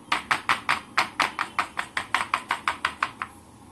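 A chocolate-filled modak mould is tapped on a hard surface about sixteen times in a quick, steady rhythm, each sharp knock close and distinct before the tapping stops.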